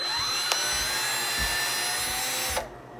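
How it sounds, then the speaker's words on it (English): A power drill run in reverse to back out a stuck screw whines steadily and close for nearly the whole stretch, with a couple of brief bumps before it cuts off near the end. "Now put the drill on reverse and"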